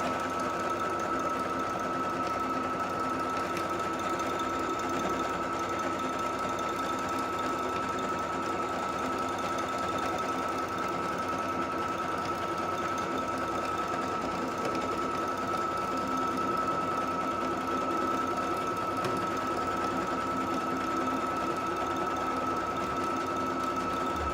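A sewing machine stitching a decorative border strip onto a towel, running in one continuous, even whir with a steady mechanical hum, close and constant for the whole stretch without any speech.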